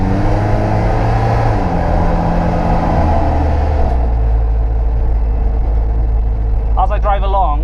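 A Commer van powered by a Saab 2.3 turbo engine with an automatic gearbox drives with a loud, steady engine drone and rumble, pitch shifting as it changes speed, with a short voice near the end.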